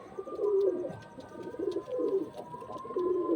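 A female loft pigeon coos close by in a steady run of low, rolling calls, with no voices.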